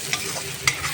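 Spice masala for shahi paneer frying and being stirred in a pan, giving a soft steady sizzle with a few brief scraping strokes of the spoon, close and with no talking.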